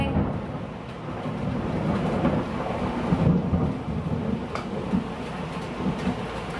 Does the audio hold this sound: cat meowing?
no